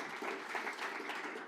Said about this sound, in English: let's clap hands